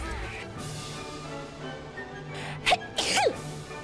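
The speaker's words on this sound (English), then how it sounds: "Sneeze. Sneeze." A pair of sharp, bright sneezes from a VTuber character, the second following closely on the first, standing out loud against a quiet, faintly humming background.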